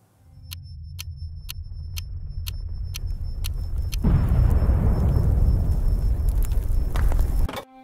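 A low engine-like rumble gives way to a loud explosion detonation in a played video excerpt, a heavy, sustained blast roaring for several seconds before it cuts off abruptly.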